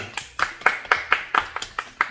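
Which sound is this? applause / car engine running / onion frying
applause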